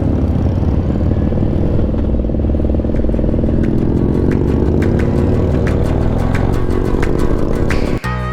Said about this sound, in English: I can tell that bike is cammed out and ready to run.